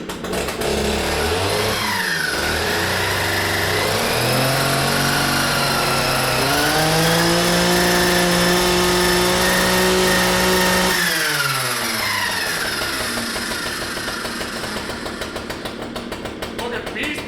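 A Stihl FS 560 C-EM gas string trimmer's two-stroke engine starts and runs loud and close, rising and falling as it revs, then drops back to a rough idle.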